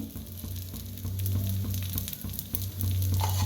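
A crispy dosa fries on a hot tawa after oil is poured around its edge. A continuous crackling sizzle rises and swells, close and steady, with no talking.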